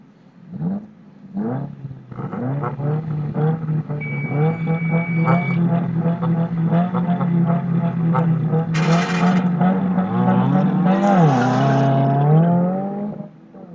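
A Toyota Corolla autocross car at an SCCA ProSolo event on an airfield course accelerates hard with a rising, sustained engine note while its tires squeal sharply; the run stays loud and close throughout.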